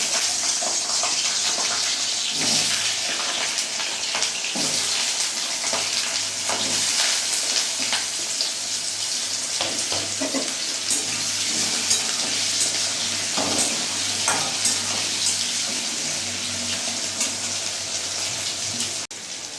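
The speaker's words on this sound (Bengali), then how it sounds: "তো আমি আলুগুলো ভেজে নেব।" Potatoes fry in hot oil in a wok, a loud steady sizzle with scraping stir strokes and occasional pops running throughout, no talk.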